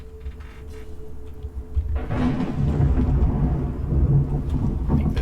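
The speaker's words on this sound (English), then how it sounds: "Storm outside the cave is still brewing." Thunderstorm outside a cave in Skyrim, with a low rumble that swells into a loud rolling crack of thunder over steady rain, no voices.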